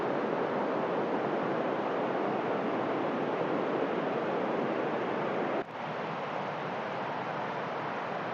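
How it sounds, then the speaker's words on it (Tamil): Waterfall at Kolli Hills heard up close as a steady, loud, broadband rush of falling water that fills the whole stretch without a break. "ஸோ நம்ம அருவிக்கிட்டே வந்துட்டோம். ஸோ நல்ல வியூ, நல்ல சவுண்ட் எஃபெக்ட்லாம் நல்லா சூப்பரா இருக்கு."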